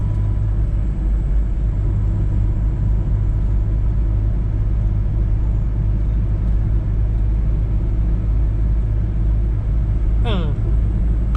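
A Toyota Corona engine turning below 1,500 rpm in fifth, its top gear, while being checked for stumbling from a spark-plug fault. It gives a steady, close, even low rumble with no breaks, and a brief higher chirp near the end.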